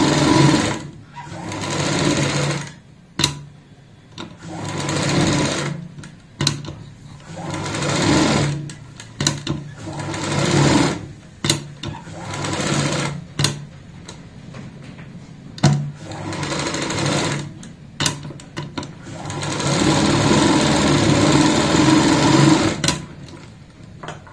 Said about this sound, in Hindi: अब हमें यहाँ पे एक सिलाई लगानी है बाहर की साइड किनारी पे।